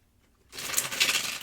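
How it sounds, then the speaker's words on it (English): A deck of tarot cards is shuffled, a quick crisp riffling flutter that begins after a short silence and continues close and fairly loud. "I'm going to actually start shuffling the tarot cards."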